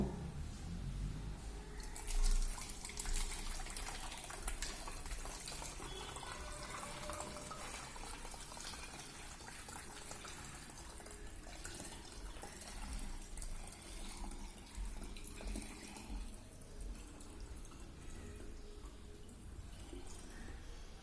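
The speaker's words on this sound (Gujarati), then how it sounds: "આ ખાલી બોટલની અંદર હું થોડુંક પાણી ભરી દઉં છું છેક સુધી પાણી ભરી દઉં છું" Water pours steadily into an empty plastic bottle, filling it to the top, a continuous gurgling, splashing stream at moderate distance that runs for a long stretch.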